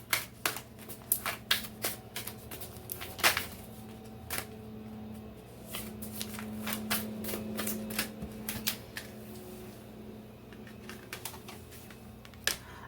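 Oracle cards being shuffled in a quiet room, giving a run of crisp, papery riffles and taps that come in irregular bursts with no talking.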